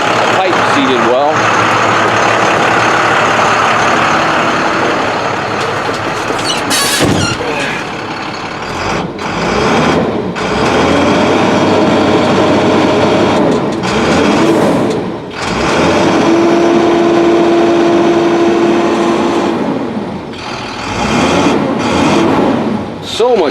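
An International 4300 truck engine runs steadily after a down pipe replacement, a loud continuous close drone with a brief tonal whine partway through, and a voice talks over it.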